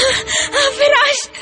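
A girl cries and moans in her sleep, close and loud, with gasping breaths and wavering whimpering wails that rise and fall over a second and a half.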